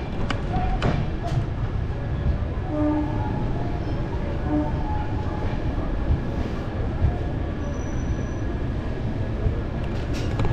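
The Gour Express, a train with new LHB coaches on the Sealdah north section, rumbles past with a steady roar of rolling wagons and a brief horn near the start.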